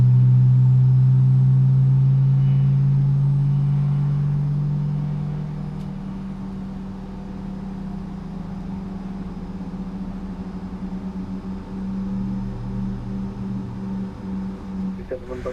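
Aerosoft CRJ-900 jet engines spooling in a flight simulator on a Lufthansa flight from Munich to Hannover, a loud rising whine and rumble that settles into a steady hum while someone talks over it.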